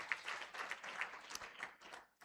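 Faint, sparse clapping from a summit audience thanking its sponsors, with scattered individual claps that thin out and stop.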